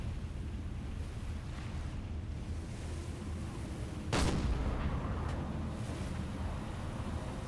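A submarine deck gun in Silent Hunter 4 fires once at a ship, a single distant boom rising out of constant ocean wind and wave noise, with the surf rolling on afterward.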